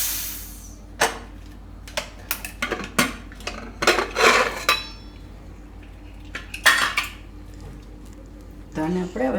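A pressure cooker of boiled lentils, taken off the stove, is opened with sharp metallic clanks of lid and pot, scattered clatters and scrapes, and a short burst at the end.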